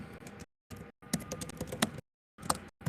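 Computer keyboard typing in quick bursts of clicky keystrokes, with short silent pauses between runs, close and fairly loud.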